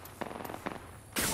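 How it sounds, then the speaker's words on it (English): Apex Legends gunfire rattles in a quick series of distant shots, then a louder burst closes the moment. "I reckon I'm going over here. Opening fire."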